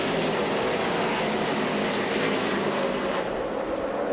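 NASCAR Craftsman trucks racing at Gateway, a loud continuous engine roar from the pack at speed, steady and droning throughout with a slight tonal shift toward the end, no voices present.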